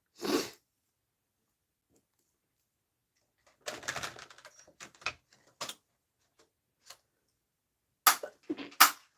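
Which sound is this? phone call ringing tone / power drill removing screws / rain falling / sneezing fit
sneezing fit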